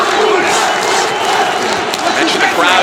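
Boxing arena crowd roaring and cheering for Badou Jack during his title fight against Noel Mikaelian, a steady, dense wash of many voices throughout with swells of shouting.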